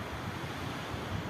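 Sea waves wash steadily onto Dahan beach in Ras Al Khaimah, UAE, a continuous close rush of surf with wind buffeting the microphone and no voices.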